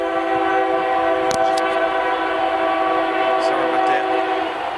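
A train on the L&N Railroad tracks sounds a long, steady horn chord nearby, holding loud throughout with someone briefly talking over it.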